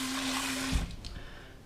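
Fresh tap water runs for a home-brewed Coopers Mexican Cerveza beer: a steady rushing stream with a faint low hum that cuts off abruptly partway through, followed by quieter dribbles.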